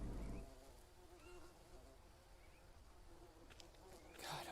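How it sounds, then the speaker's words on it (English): Bees hum around a beehive in the jungle survival game Green Hell, a faint, steady insect drone in the background, with a brief louder rustle near the end. "I hear bees."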